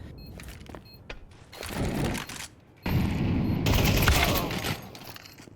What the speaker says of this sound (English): A little bit of friendly fire onto Supa.